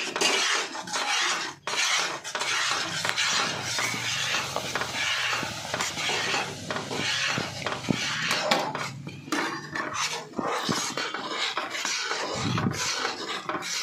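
A spoon scrapes and stirs ghee in a metal pan over a low flame while Mysore Pak cooks, a continuous loud rasping, clattering scrape with brief pauses and no talk.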